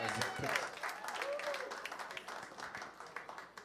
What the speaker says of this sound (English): Mr. James Dunning, another round of applause.